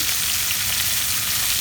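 Pieces of poultry frying and browning in a hot pan give off a dense, steady hiss of sizzling fat that holds even and loud with no voices.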